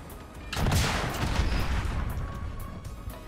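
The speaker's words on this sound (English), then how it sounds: "That was my rocket kill." A rocket explosion in the video game Call of Duty: Modern Warfare, one loud, deep blast bursting close by and then rumbling away over a few seconds, with faint game noise trailing behind it.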